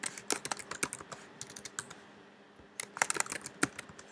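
Someone types on a computer keyboard nearby in a quiet room, producing quick, irregular bursts of crisp key clicks with a short pause in the middle.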